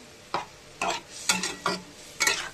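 A spoon stirs a bubbling fish curry with mustard in a pan, making five distinct scraping strokes at a loose, uneven rhythm over a faint simmer, close up and without talking.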